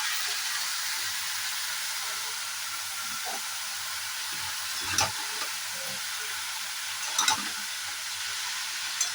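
Cut bottle gourd sizzling in a pan with soaked chickpeas and spices, a steady bright hiss of frying broken by a few soft knocks of the stirring spoon.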